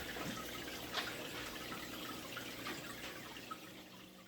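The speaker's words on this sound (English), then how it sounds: "Got the filter primed and running." An aquarium filter runs in a newly built 120-gallon freshwater tank, keeping up a faint, steady trickle as it ripples the water surface, with no voices.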